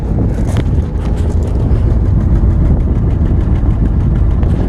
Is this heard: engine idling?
yes